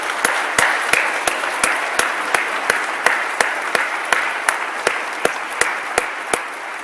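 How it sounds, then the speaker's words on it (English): Audience applause at a university College of Science pre-commencement ceremony for doctoral candidates: a steady, loud wash of clapping punctuated by sharp, evenly spaced claps roughly three times a second, with no talking. "So maybe we'll just give one more round of applause for those doctoral candidates."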